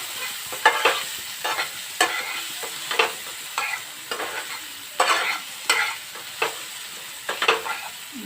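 Chopped tomato with a pinch of salt fries over a low gas flame for an egg curry, with steady close sizzling and a rhythmic series of spatula scrapes and stirs against the pan.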